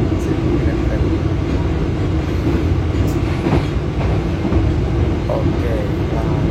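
The Brantas economy passenger train rolls along with a steady low rumble and the faint clack of its wheels, heard from inside the carriage and continuous throughout.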